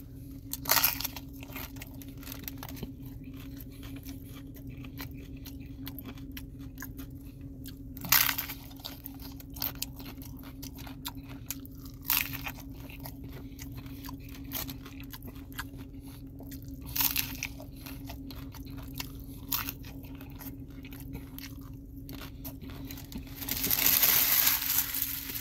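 A Taco Bell Mexican pizza is eaten close up, with soft chewing throughout and occasional louder crunchy bites spaced several seconds apart, with no speech.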